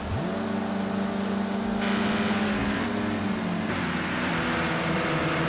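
Race car engines in Project Cars 2 on Xbox, racing at Sakkito: a steady, loud engine drone climbs in pitch as one car accelerates and holds high revs, with other cars layered underneath.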